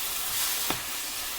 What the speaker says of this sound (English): I'm sure you can hear it sizzling